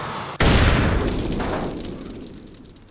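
A grenade explosion in the Xbox video game Full Spectrum Warrior: one sudden loud boom followed by a long rumbling decay with faint debris crackle.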